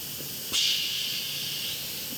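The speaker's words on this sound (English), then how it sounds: "Press to vent. Turn to stop. That's a lot of pressure." Steam hissing from the pressure release vent of an Instant Pot Duo Nova: a sudden loud burst of hiss that holds for about a second, then tapers to a steady softer rush, with no talking.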